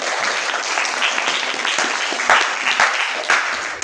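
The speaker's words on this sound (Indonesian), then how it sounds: "Tepuk tangan dulu" A classroom group claps together in steady, dense applause, close and lively, with no talking over it and a few louder bursts near the end.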